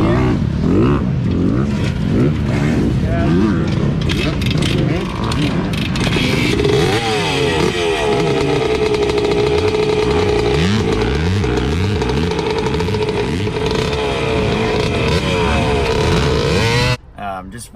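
Honda CR125 two-stroke motocross bikes, a 2004 and a 1997, racing at Washougal MX, loud and close, with continuous high-revving engine snarl, rising and falling pitch through gear changes, then a sudden cut at the end.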